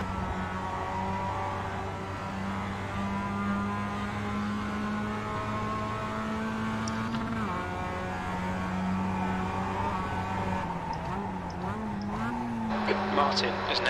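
A Mazda MX-5 race car engine in iRacing drones at a steady high pitch, shifting slightly as another car draws alongside, with a voice speaking over it.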